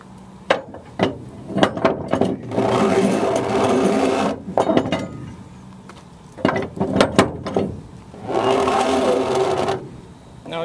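A strap being ratcheted tight outdoors in Smithville, Ontario, giving loud mechanical clicking and grinding in several bursts of rapid ratchet strokes separated by brief pauses, close and without speech.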